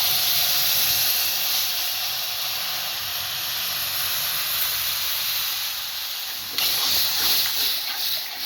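Milk poured into a hot pan of sooji halwa, producing a steady loud sizzling hiss and steam that swells briefly again near the end, with no talk.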